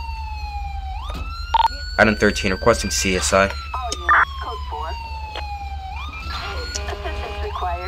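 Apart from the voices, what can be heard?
police car siren in GTA V (video game)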